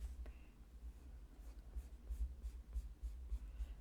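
Watercolor pencil scratching and scrubbing on paper, a soft, steady dry rasp with brief strokes close by, faint and continuous without any talk.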